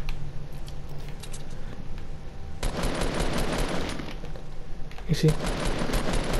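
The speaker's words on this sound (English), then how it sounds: "You see, guys, you can shoot." Gunfire in the video game Fortnite: rapid automatic bursts rattle out in two clusters after a quieter stretch, with someone briefly talking over the game sounds.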